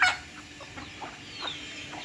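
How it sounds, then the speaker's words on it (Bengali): Free-ranging desi chickens, egg-laying hens, clucking softly nearby in a short run of low, repeated clucks over a faint outdoor background hiss. "এখানে যে মুরগিগুলো দেখছেন"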